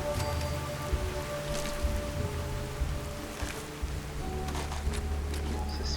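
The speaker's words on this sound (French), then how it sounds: "Ah, il y a des éclairs, ça pleut." Steady rain falls in Fallout 4 during a thunderstorm, a constant dense patter that fills the whole scene evenly with no speech over it.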